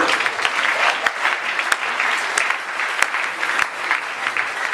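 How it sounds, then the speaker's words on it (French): A church congregation applauding to acclaim the Lord, a sustained burst of dense hand clapping with a few sharper claps standing out, loud and continuous throughout. "Encore une fois, est-ce qu'on peut acclamer le Seigneur?"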